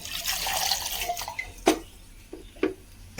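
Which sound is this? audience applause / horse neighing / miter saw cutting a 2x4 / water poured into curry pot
water poured into curry pot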